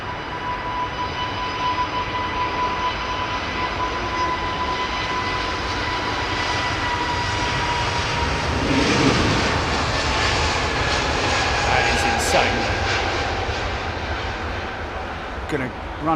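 Boeing 777-9 jet engines roar steadily at London Heathrow, a broad continuous rumble with a whining tone, swelling slightly midway, with a voice talking over it.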